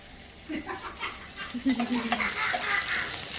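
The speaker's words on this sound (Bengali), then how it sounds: "পেঁয়াজটাকে ভাজবো এখন ভাজা হয়ে যাক" Chopped onions fry in oil in a pan, giving a continuous hissing sizzle with occasional stirring scrapes and a faint voice in the background.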